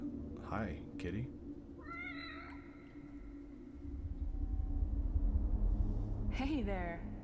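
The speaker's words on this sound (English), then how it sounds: "I saved the game by petting the cat?" A cat in The Evil Within video game meows several times, short rising calls near the start and again at the end, while someone speaks and a low rumble swells in the middle.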